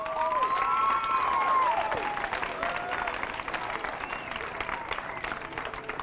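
A school audience of children applauding at a mural presentation, loud clapping mixed with high cheers and shouts that gradually thin out.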